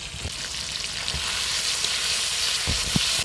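Ginger paste sizzles and fries with tomato in hot oil, a steady broadband hiss with a few stirring scrapes, close and fairly loud, no voices.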